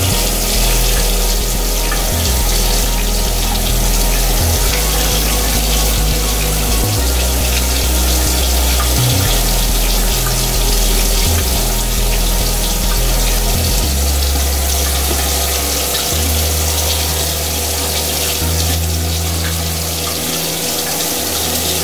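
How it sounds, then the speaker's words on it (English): Water runs steadily from a bathroom tap during a morning face wash, a continuous close, loud gushing stream with shifting low rumble as the flow hits the basin. "Next, what we're gonna do, I'm gonna wash my face."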